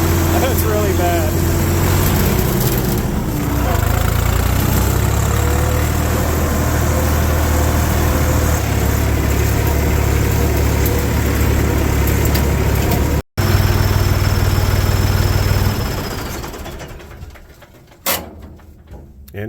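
A tractor engine holds at rated PTO speed with a steady loud drone and rattle through a damaged canopy, running close and constant before winding down near the end.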